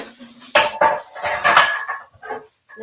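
Dishes, bowls and pots clatter and clink in a burst of handling while cleaning up after making oil-infused CBD, loud and close, with several busy clusters of knocks and rattles and no talk.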